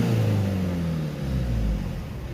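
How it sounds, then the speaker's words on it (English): A Peugeot Boxer 2.0 diesel engine is revved a few times shortly after a restart, a close low rumble rising and falling with no talk. "We'll give it a few revs."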